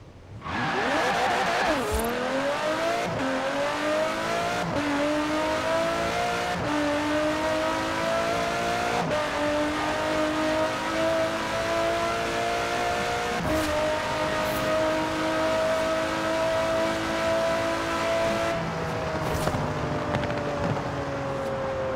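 An Aston Martin Vulcan's engine in a racing video game revs and climbs through repeated gear changes, each upshift dropping the pitch before it rises again, with burbling on the lift-offs. The sound is loud and steady, with no talk over it.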